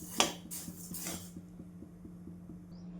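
Coriander seeds dry-roasting without oil in a pan on a gas stove give a few light metallic clinks and scrapes near the start, then fade to a faint, steady low hum.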